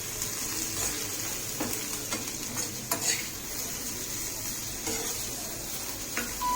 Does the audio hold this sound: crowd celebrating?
no